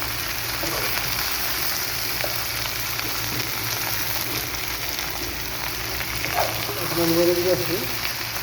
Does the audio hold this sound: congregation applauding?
no